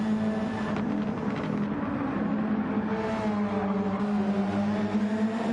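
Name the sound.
racing cars overtaking in Gran Turismo 7 video game, Super Formula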